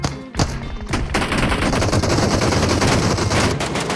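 Rapid automatic gunfire in the shooter PUBG Mobile's Gun Game mode, a brief opening burst, a short pause, then a loud sustained rattle of shots continuing to the end.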